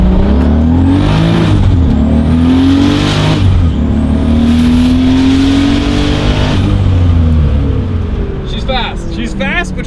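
A turbocharged BMW E36 M3 engine roars loudly on a dyno, climbing in pitch through repeated hard pulls with a high whine riding over the sustained growl.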